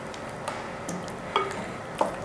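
Kaleji (liver) qorma being stirred in a cooking pot, with soft scraping and a few sharper spoon-against-pot clinks over a faint, steady sizzle; no voices.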